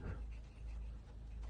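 A dog pants steadily and close up, its quick rhythmic breaths forming a soft, continuous huffing at low volume.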